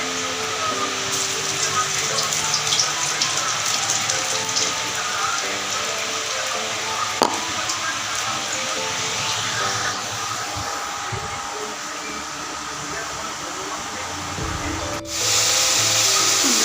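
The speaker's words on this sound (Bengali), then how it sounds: "রসুন, কালো জিরে, শুকনো লঙ্কা, কাঁচা লঙ্কা সম্বরা দিয়ে শাকটা বসালাম" Greens frying in a pan with garlic, black cumin, dried and green chillies, a loud continuous hiss and sizzle like steady rain, a voice talking over it.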